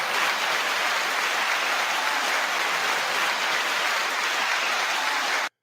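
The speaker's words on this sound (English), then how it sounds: "9 second applause" A dense, even wash of clapping from a crowd holds steady at a constant level for several seconds, then cuts off abruptly at the end.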